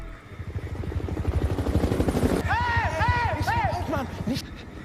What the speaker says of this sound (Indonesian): tiba-tiba mereka mendengar suara helikopter